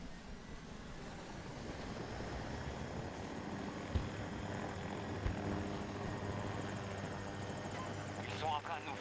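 Helicopter flying in the video game Battlefield 2042, a steady loud rotor and engine drone running throughout with a couple of sharp thumps, while game effects and occasional voices sit in the mix.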